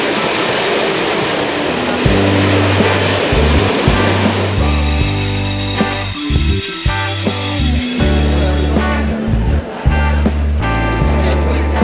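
A passenger train rumbles along steadily, with shifting low mechanical drones and faint wheel squeal as it runs, loud and continuous throughout.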